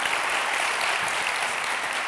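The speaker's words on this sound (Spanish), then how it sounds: "un aplauso Juan." A studio audience at a Spanish political comedy show breaks into loud, dense applause, continuous clapping filling the whole short stretch.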